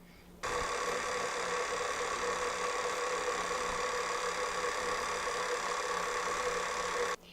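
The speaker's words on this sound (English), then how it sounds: "give it one last mix, but we're going to do it on low speed and stop it as soon as the mixture looks like it's combined" A stand mixer runs on low speed through cookie dough, a steady mid-pitched motor whir starting abruptly, holding even and close for about seven seconds, then cutting off.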